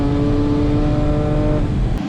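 A drag racing car launches with a loud, continuous engine roar heard close throughout, with a brief dip right at the end.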